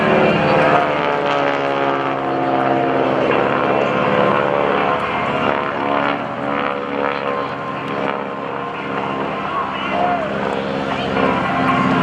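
Propeller aircraft flying at a naval air station airshow with the GEICO Skytypers, a sustained droning engine hum with steady harmonic tones, held at constant loudness throughout while a voice talks over it.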